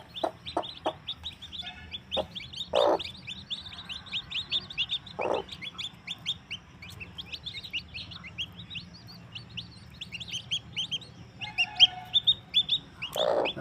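Newborn chicks, some white, peep in a steady stream of high, rapid chirps, with occasional louder, closer calls breaking through. A low hum sits underneath and no one speaks.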